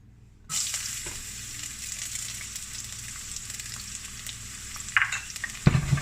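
Garlic drops into hot oil in a pan over medium-high heat and bursts into a sudden steady sizzle, with a few clinks and stirring scrapes near the end.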